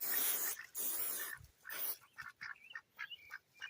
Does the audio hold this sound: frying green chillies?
no